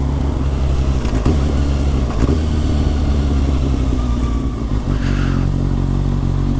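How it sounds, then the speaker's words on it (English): Kawasaki Ninja motorcycle out on a ride, its engine a heavy, continuous low rumble blended with wind roar, holding steady with small surges throughout. "heading out on the bike"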